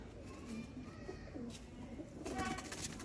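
Indian Surkha pigeons, a blue-eyed breeding pair, give soft, low repeated coos over a steady background hiss. The calls are faint and close by, with no voices.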